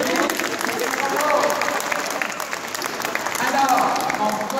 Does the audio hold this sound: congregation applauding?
yes